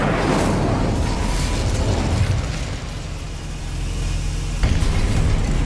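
Incendio fire spell cast in Hogwarts Legacy, a loud continuous roaring burst of fiery rumble that swells, dips briefly and surges again with a crackling pop near the end.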